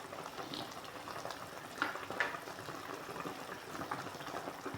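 Chicken soup with Chinese cabbage boils in a pot, a steady soft bubbling and gurgling with small pops, moderately close and without talk.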